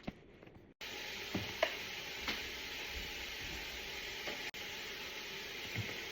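Ingredients frying in a pot are stirred, giving a steady, close sizzle with a few brief scraping knocks from the spoon.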